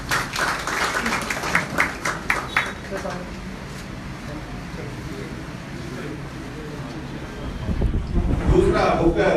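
An audience at a political event with a politician claps loudly for the first few seconds in a fast, dense patter, then fades under someone speaking over a microphone, with noise rising again near the end.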